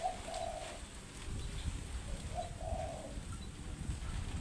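A decoy bird being trained as a lure coos in two soft, drawn-out phrases, a closer one near the start and a second shortly after, over steady low outdoor background noise with no talking.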